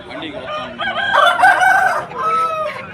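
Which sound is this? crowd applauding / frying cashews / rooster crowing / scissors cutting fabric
rooster crowing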